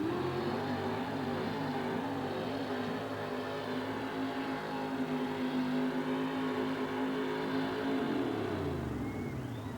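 A 1942 Chevrolet truck with a 454 Chevy engine roars under load at a truck-pulling event, a loud sustained engine drone that climbs and holds before dropping away near the end.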